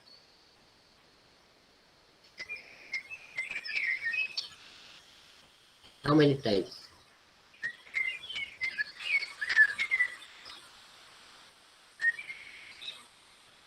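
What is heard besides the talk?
birds chirping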